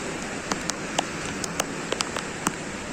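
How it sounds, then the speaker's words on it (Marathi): Constant heavy monsoon rain pours down in a dense, even hiss in Dapoli–Khed, with sharper drops spattering close by now and then. "अति मुसलधार पाऊस आला आहे"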